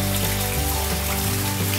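Rain falls outside as a steady, dense patter of drops on surfaces, a constant wash of noise with a low hum beneath and no voices.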